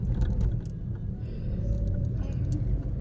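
From inside a car driving on the road, a steady low rumble of engine and tyres carries on with faint small rattles and no talk.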